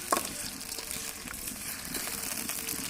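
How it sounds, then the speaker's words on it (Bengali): Fish heads seasoned with turmeric and salt frying lightly in oil in a wok, a steady close sizzle with faint clinks and stirring throughout. "কড়াইয়ে তেল দিয়ে দিয়েছি, এখন মাছের মাথাগুলো হালকা করে ভেজে নেব।"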